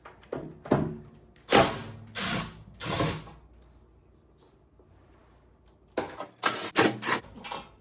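A power screwdriver backs screws out of an Elmira stove in short whirring, ratcheting bursts, with a quiet pause between an earlier cluster and a later run of quick spurts.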